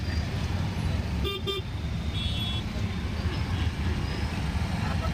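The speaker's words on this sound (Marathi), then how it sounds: "बाहेरचे ट्रॅफिक तुम्हाला दाखवते मी." Street traffic heard from inside a rickshaw during rain, a constant engine and road rumble with a couple of quick horn toots near the middle and fainter honks after.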